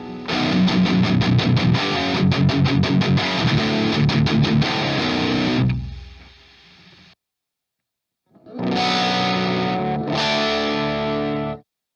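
Heavily saturated electric guitar played through a Flamma preamp and cab, with chugging chords for about six seconds. It rings out, falls silent, then returns with more distorted strums.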